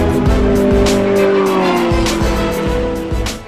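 Ferrari and Porsche GT3 RS supercars race on a track, loud engines droning steadily with rising revs and repeated gear-shift thumps, plus a hint of tire squeal throughout.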